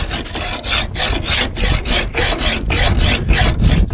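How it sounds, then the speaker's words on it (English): A horseshoe rasp files metal on a forged draw knife blade in a rhythmic series of about a dozen loud, close rasping strokes, each a harsh scrape followed by a brief gap. "a horseshoe rasp is a useful item. That thing will definitely eat some metal."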